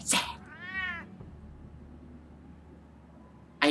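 A single clear meow from a cat in the Batman Telltale video game sounds near and distinct, preceded and followed by short bursts of other game audio, with quiet in between.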